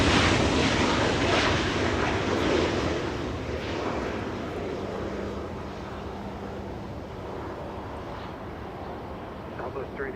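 A Skywest jet airliner roars steadily on takeoff from runway 24 left at Los Angeles International Airport, a broad loud engine rumble fading slowly as it climbs, with a radio voice talking over it.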